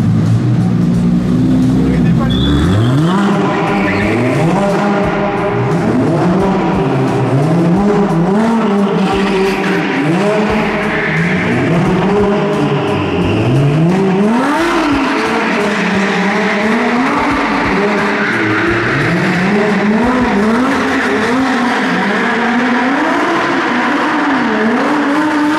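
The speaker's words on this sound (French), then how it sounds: "à faire des donuts avec la Pogini fraîchement livrée" A freshly delivered Lamborghini spins donuts at night, its engine howling in rising and falling revs, with tire squeal and skid noise throughout, loud and continuous under voices of people talking nearby.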